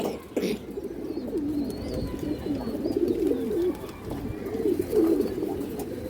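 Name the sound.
pigeons cooing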